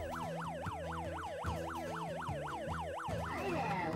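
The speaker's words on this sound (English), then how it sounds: "Or you can pull it down to activate the siren." Siren on a Bobbie boating-safety robot, a loud, steady wail cycling rapidly up and down in pitch, about three sweeps per second, over a low electronic drone that ends in a burst of higher tones.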